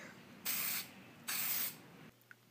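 Two separate bursts of airbrush spray hiss, each lasting under half a second, as fast-drying enamel paint is applied to a plastic ALCO PA-1 model locomotive; close and steady, with no talk.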